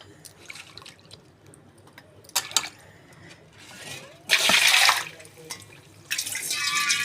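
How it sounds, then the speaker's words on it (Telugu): Fish being washed in water in a kitchen for a fish curry: soft trickling and dripping, then several louder bursts of splashing and pouring water, the last two lasting a second or more. "ఇట్లా కడిగి మళ్ళీ మనము వేరే ప్లేట్లో చేపలు తీసి పెట్టుకొని వాటర్ పడబోయాలి"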